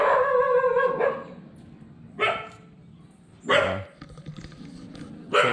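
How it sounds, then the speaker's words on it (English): Dog barking at a house in an old village in Bobo, Burkina Faso, four loud separate barks spaced a second or more apart, the first a drawn-out howling bark, with quiet background between them. "Okay, we've got a dog."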